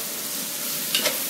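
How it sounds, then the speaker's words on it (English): Chili powder being stirred into a curry that sizzles steadily in the pan, a close, even frying hiss with a couple of faint scraping strokes of the spoon near the end. "So we stir in the chili powder."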